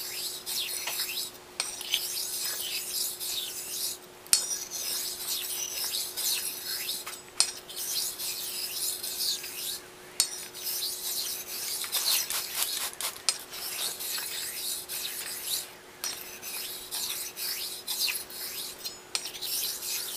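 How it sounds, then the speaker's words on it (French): A straight razor rasps in repeated strokes across a 4000 grit whetstone, each pass a steady rubbing scrape separated by brief pauses, close and clear with no talk. "on entend un petit peu le schling, ça veut dire que nous avons un tranchant qui devient de plus en plus fin"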